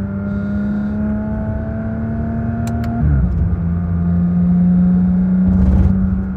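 A Porsche 911 GT3 RS engine holds a steady high-revving drone up close, its pitch dropping and shifting midway before settling into a strong sustained tone.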